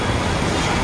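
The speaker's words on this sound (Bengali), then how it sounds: "নদীর ঢেউ খেলতেছে" Waves wash through floodwater that has spilled into a government office after a day of rain, a dense roaring rush mixed with wind buffeting the microphone, brief and loud.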